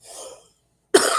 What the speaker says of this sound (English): I just had a whole coughing fit